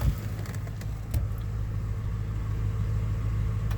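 A 2003 Chevy cat-eye pickup truck sits running on a cold winter day after starting up, its engine idling in a steady, low, rumbling drone close by with no voices over it.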